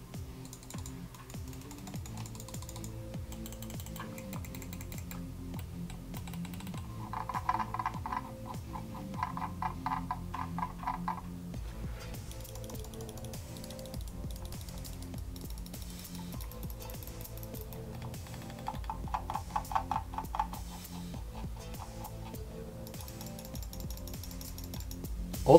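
Mionix Castor and Razer DeathAdder Chroma mouse buttons click in a quiet room, sharp small ticks repeated in quick runs of bursts, close and dry.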